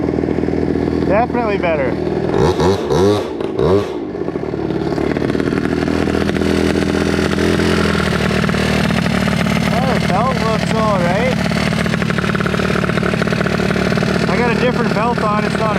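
A Honda Dio 120cc stroker scooter rides with a steady buzzing two-stroke engine drone and brief revs, loud and close, with someone talking over it throughout.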